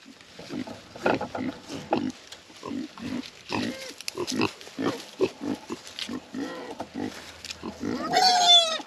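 Pigs on a farm, a sow with her nearly weaned piglets, grunting and snuffling in repeated short bursts at close range, ending in a cluster of high piglet squeals.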